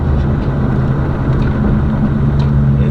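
A Box Chevy on a test ride to check its transmission shifting gives a loud, continuous low engine rumble from inside the car.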